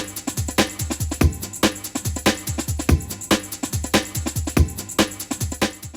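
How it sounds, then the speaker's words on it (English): Kick and snare samples layered over a busy breakbeat loop for early-90s rave hardcore in Ableton Live: a dense, driving drum groove with booming low kicks, crisp snares and constant hi-hat chatter, loud and close with no talking. "And when they're layered with the break all together, it sounds like this."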